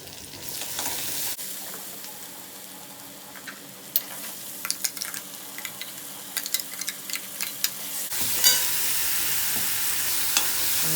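Asafoetida tempering in hot oil for mug dal with dhokli, a loud hissing sizzle at the start, then quieter crackles and sharp spatters, followed by a sudden strong burst of frying hiss that holds to the end.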